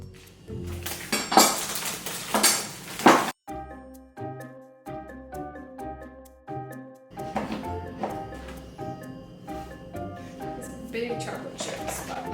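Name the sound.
lining a baking sheet for pumpkin chocolate chip muffins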